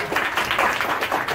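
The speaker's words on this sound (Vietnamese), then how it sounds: "vỗ tay cái các bạn." An audience claps together indoors, a steady wash of applause that holds for the whole short stretch without pause.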